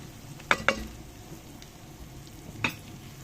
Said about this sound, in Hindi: मिक्स करेंगे अच्छी तरह से और सारे मसालों को अच्छी तरह से भूनेंगे हम।